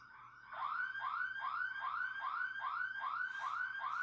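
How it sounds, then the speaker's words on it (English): A car alarm wails in a repeating rising chirp pattern, about eight even cycles in four seconds, loud and steady over a low background hum with no talk. "can you hear my alarm?"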